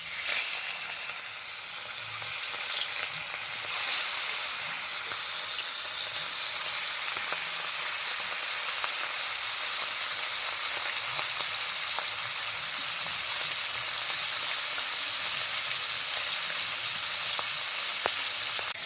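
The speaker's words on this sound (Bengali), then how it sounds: "এবার মাছগুলো ভেজে নেব।" Pomfret fish frying in hot oil, a steady, even sizzle and hiss that runs close and continuous without a break, with no voices.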